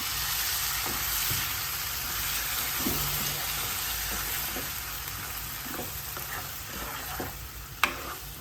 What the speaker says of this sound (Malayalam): ഇതിലോട്ട് ഒരു തക്കാളി മിക്സിയിൽ അടിച്ച് വെച്ചേക്കേ അത് ഒഴിച്ചു കൊടുക്കാം